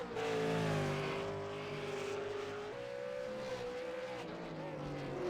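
Race cars in a racing video game replay roar past at full throttle, engine notes rising and shifting between gears, a continuous loud mechanical drone with no talk.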